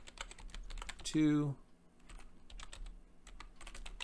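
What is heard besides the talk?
typing on computer keyboard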